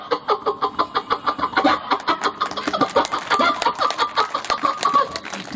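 A chicken clucks in rapid, steady bursts, close and fairly loud, with busy background noise behind it.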